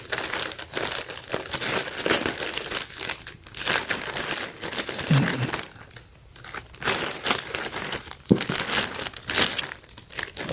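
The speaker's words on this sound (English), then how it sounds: "So I'm just gonna cut this open." Plastic shipping package being cut and torn open up close, with a steady run of loud crinkling and crunching rustles that pause briefly midway.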